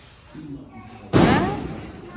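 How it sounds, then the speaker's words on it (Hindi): A small Diwali firecracker goes off with a single sudden bang a little past halfway through. It is a deep, punchy thud that decays over about a second above low background noise. "दिवाली पर छोटा धमाका करते हुए"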